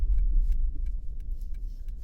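A car engine rumbles steadily as the driver gives gas during a hill start on a slope in Seydişehir, a close, low drone with faint clicks and no talking.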